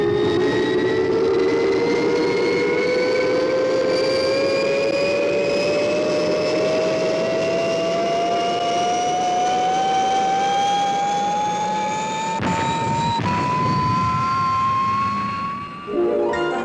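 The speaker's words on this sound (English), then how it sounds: "Stand by for liftoff." Fireball XL5 spaceship lifting off: a loud, steady engine roar with a whining tone that rises slowly over about sixteen seconds, a burst of added rumble near the end, no voices.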